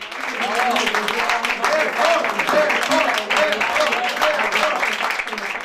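Supporters in a city centre cheer and clap for a mayor on election-victory night, a dense, steady wash of applause and raised voices running loud and unbroken from start to finish.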